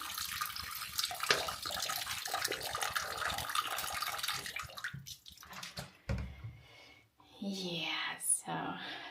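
Murky, discoloured water gushes from a tap in a steady broadband rush, with low voices talking nearby over part of it before the flow cuts and restarts.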